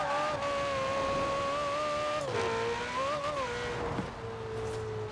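Maserati engine in Forza Horizon 4 during a drift run, a steady loud tonal drone whose pitch rises and dips with throttle, with tire squeal mixed in throughout.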